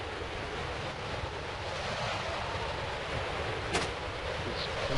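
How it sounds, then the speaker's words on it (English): A sleep-inducing blizzard in the Ice Cavern of the video game Final Fantasy IX roars as a dense, steady rush of wind noise that fills the entire stretch, with one brief brighter gust partway through. "he's the one causing this sleep-inducing blizzard"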